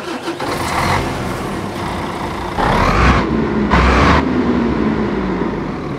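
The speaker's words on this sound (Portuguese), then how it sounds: "Vamos agora escutar o som Mercedes-Benz." Mercedes-Benz truck engine sound mod in a truck driving video game: a steady mid-pitched diesel rumble with rising revs and two brief bursts of air hiss, close and loud with no talking.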